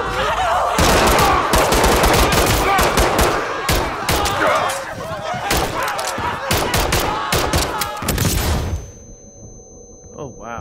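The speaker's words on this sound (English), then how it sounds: "Okay, I shot him" Heavy gunfire in the Call of Duty: Modern Warfare III campaign, dense automatic bursts and overlapping shots with booming thuds, loud and chaotic, with shouting voices mixed in before it cuts to quiet near the end.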